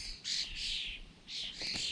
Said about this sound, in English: with a collared dove and a wood pigeon having a little bit of an argument